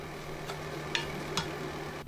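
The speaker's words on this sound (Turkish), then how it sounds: "Şimdi doğramış olduğum yeşil biberleri de ilave ediyorum. Bunları da kısa bir süre kavuruyorum." Chopped green peppers sauté in a hot oiled pan, giving a soft steady sizzle broken by a few sharp clicks of a utensil stirring against the pan, close and fairly quiet with no talking.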